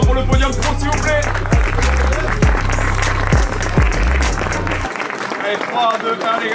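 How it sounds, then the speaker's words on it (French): A crowd at a karting race applauds the pro podium, scattered clapping and cheering under loud pounding music with a heavy beat, and a voice talking over it. "Allez, applaudissements pour le podium pro s'il vous plaît."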